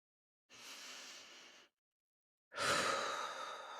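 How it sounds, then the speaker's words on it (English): A single deep breath is heard close up: a soft, airy inhale, a brief silence, then a louder, longer sighing exhale that trails off slowly. "Pause. Take one breath."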